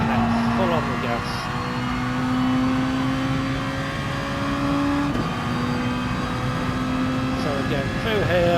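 A race car engine at Suzuka in a racing game holds a steady high drone as it accelerates under power, rising slightly in pitch, while a voice talks over it throughout.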